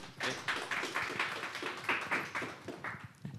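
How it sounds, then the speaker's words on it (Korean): Audience at an architecture policy idea competition awards ceremony applauds a presenter, a short burst of clapping from a modest crowd, fairly faint and steady, fading toward the end. "박수 부탁드립니다."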